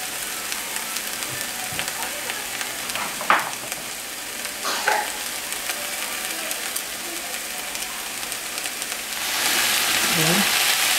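Pork steak and onions frying in a pan, a soft steady sizzle with a few clinks and stirring sounds, growing a little louder toward the end.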